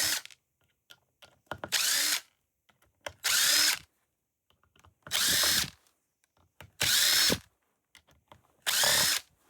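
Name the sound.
removing T8 screws from a hard drive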